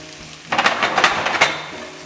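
Fresh asparagus tipped into a pan of frying onions sets off a sudden loud burst of sizzling and crackling that swells, pulses and then eases back down.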